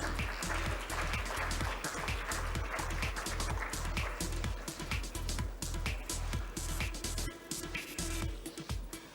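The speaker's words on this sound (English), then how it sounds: "Let's give them a huge round of applause, ladies and gentlemen." Steady, dense applause from a tech conference audience, a continuous wash of many hands clapping at a distance.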